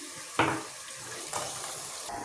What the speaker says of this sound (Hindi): अब ये लहसुन अदरक का कुछ पानी था, अब मैं इसमें डाल देती हूँ।